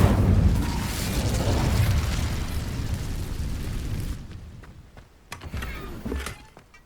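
An Incendio fire spell erupts in Hogwarts Legacy against damaged rocks: a loud roaring burst that rumbles for several seconds, then fades into quieter crackles and small pops.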